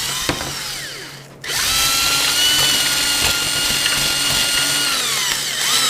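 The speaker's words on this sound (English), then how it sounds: "So I'll just take a drill, cordless drill in a bit, and right here in the foam" A cordless drill whines up to speed after a brief dip, its motor pitch holding steady and close, with faint grinding as the bit works through soft material.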